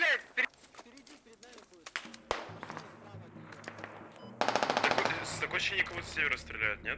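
Automatic rifle bursts and single gunshots crack through a battle in the military shooter game Squad, at first scattered and more distant, then a loud dense barrage, with voices chattering over the shooting.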